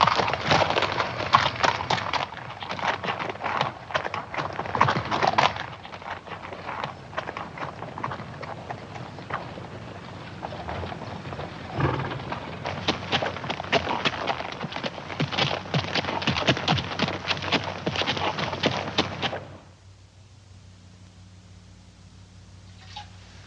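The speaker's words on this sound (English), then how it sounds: "Let's get down off these horses and talk some." Horses' hooves clip-clopping at a walk on open ground in an old Western, a steady close patter of hoof beats with some rustle, continuing for most of the stretch before fading to quiet near the end.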